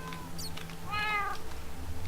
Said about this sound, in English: Oh, I think that's a zombie cat.